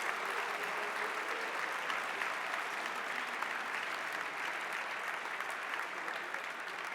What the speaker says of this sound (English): let's give them a big round of applause for winning the state championship